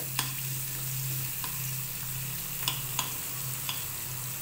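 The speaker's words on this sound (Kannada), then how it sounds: "ಈರುಳ್ಳಿ ಸ್ವಲ್ಪ ಕೆಂಪಗಾಗೋವರೆಗೂ ಇದನ್ನು ಫ್ರೈ ಮಾಡ್ಕೋಬೇಕು." Onions fry in oil, giving a steady sizzling hiss with a few sharp clicks of stirring now and then.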